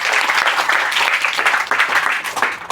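A student audience at a group presentation claps loudly and close, a dense burst of hand clapping that fills the short stretch without pause.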